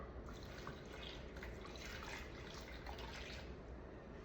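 Warm water pours into a bowl for proofing yeast, a faint, steady trickle and splash lasting a few seconds, close by and without any talking.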